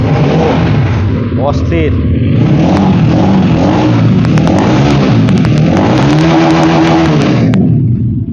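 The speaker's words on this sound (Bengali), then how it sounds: "বাইকটা স্টার্ট দিলে আপনি বুঝতে পারবেন আসলে এটাতে কিন্তু অনেক স্মুথ একটা সাউন্ড কিন্তু হয়" A Honda NSX 165R motorcycle engine runs loud and close, its pitch rising and falling through several revs over a steady idle, while someone talks over it throughout.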